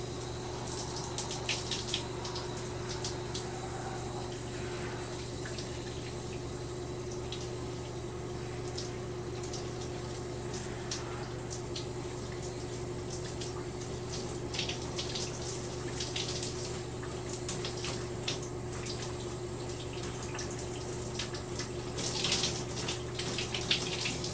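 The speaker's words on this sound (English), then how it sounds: "I'm just going to rinse the rest of the conditioner out of the hair." Tap water runs steadily while conditioner is rinsed out of fine hair, a soft continuous flow with scattered splashes and drips, with a low hum beneath it and no talking.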